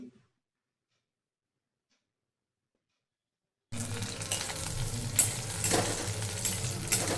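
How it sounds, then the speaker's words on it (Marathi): Ground urad dal chutney paste hitting hot oil after a silent stretch, then a steady loud sizzle and frying hiss with stirring scrapes, running alone through the second half. "अशा प्रकारे ते वाटलेलं मिश्रण तेलात सोडून छानपैकी परतवून घ्यायचं"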